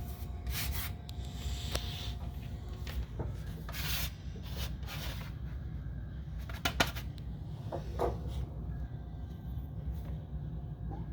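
A small spatula scrapes capsule powder across a manual 400-count capsule-filling machine, giving soft, repeated rubbing and scraping strokes with a few light clinks, close and fairly quiet.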